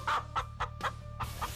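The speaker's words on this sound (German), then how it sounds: "Hier wohnen unsere Hühner" Farm chickens cluck inside their coop in a quick run of short, close bursts with brief pauses between them, over a low steady hum.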